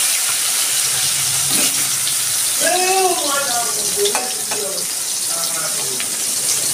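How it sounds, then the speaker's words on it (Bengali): Pieces of pointed gourd (potol) fry in hot mustard oil in a kadai, giving a steady, fairly close sizzling hiss throughout, with a few brief tonal chirps rising over it midway. "তেল গরম হয়ে গেছে, আমি পটল দিয়ে দিচ্ছি।"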